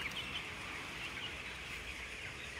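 A dense, constant chatter of many chickens clucking together inside a barn, a steady wall of bird noise with no pauses.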